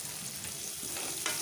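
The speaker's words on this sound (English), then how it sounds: "And then in goes one medium-sized chopped onion" Chopped onion frying in hot oil with turmeric gives a brief, constant, close sizzle with a slight rise in hiss near the end.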